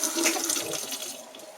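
A steady, hissing stream of water runs from an Excel instant hot water heater tap with a magnetic switch, the flow turned down to a thin trickle, close and continuous throughout.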